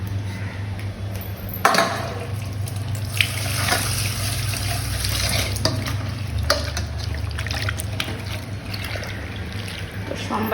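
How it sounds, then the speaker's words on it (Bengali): Onions being rinsed under a running kitchen tap, water pouring steadily into a sink with brief splashes and handling noises, close and continuous with no talking. "প্রথমে সম্বাসের পেঁয়াজটা ধুয়ে নিচ্ছি।"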